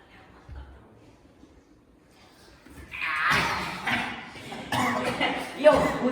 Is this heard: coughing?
yes